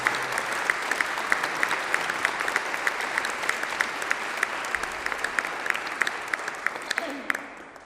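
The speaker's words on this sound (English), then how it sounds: "let's give Dr. Jagow another round of applause, please" Concert audience at a spring concert gives Dr. Jagow a sustained round of applause, dense steady clapping filling the hall for several seconds, with a few louder individual claps standing out before it tapers off at the end.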